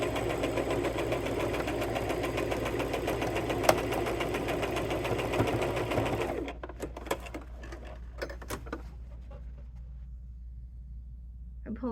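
A sewing machine hums steadily while sewing a vest, running continuously for several seconds close by, then stopping and giving way to faint handling clicks and rustles.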